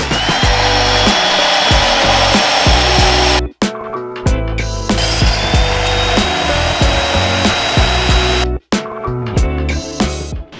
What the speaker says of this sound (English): Now we got our mag drill. We're gonna drill four holes in the frame